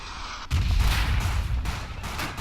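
Mortar or grenade explosion in the trench warfare video game Verdun, a sudden heavy blast after a half-second lull that rolls into a loud, rumbling tail with fainter distant thuds.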